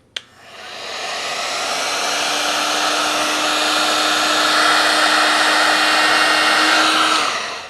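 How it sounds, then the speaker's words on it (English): A heat gun blows steadily for about seven seconds to shrink red heat shrink tubing onto a custom audio cable, a loud, even whooshing roar that starts abruptly and cuts off near the end, with no talking. "using my heat gun, I'll melt those on there"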